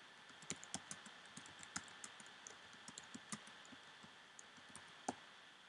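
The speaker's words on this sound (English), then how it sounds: "maybe we have to type in United States Capitol" Fast, light keyboard typing on a computer, a steady run of crisp clicks close to the microphone, quiet and without voices.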